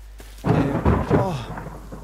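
Thunder rolls and crackles over a low drone during rain in the game The Forest, a brief loud rumble that swells quickly, pulses a few times and then fades.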